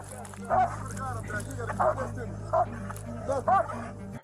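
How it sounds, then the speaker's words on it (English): A dog barks and yips several times in short bursts at uneven intervals, fairly near, over a steady low engine-like hum, with people talking throughout. "hear that dog barking"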